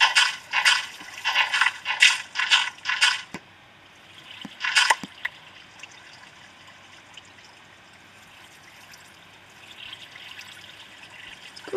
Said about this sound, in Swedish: skvallande vatten.